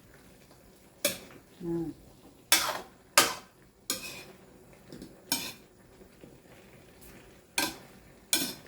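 Pakbet vegetables, including eggplant, are stirred in a cooking pan: a series of sharp metallic scrapes and clanks of a utensil against the pan, spaced irregularly about every second, close and fairly quiet, with a brief word spoken.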